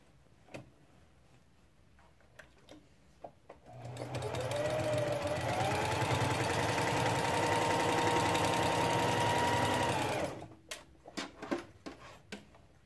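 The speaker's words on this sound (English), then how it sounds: "I've turned my block a 1/4 turn, and I'm ready for my next one" A sewing machine stitching log cabin quilt-as-you-go block strips runs in one steady, loud whirring burst of about six seconds, framed by light handling clicks and a faint rise in pitch as it speeds up.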